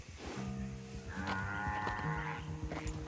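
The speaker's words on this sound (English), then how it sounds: "A gorgeous Florida cracker cow." A Florida Cracker cow in Red Dead Redemption 2 gives a drawn-out, low moo, fairly quiet beneath layered in-game ambience of other livestock and outdoor sound.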